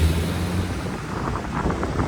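Wind buffets an iPhone 15 Pro Max microphone outdoors with a continuous rough, loud rumbling roar that rises and falls across the whole stretch, and no other sound stands out.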